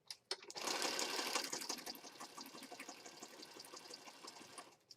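A sewing machine stitches through a handmade apothecary junk journal, a fast rattling run that starts abruptly, holds steady for a few seconds, then slows into uneven clattering bursts.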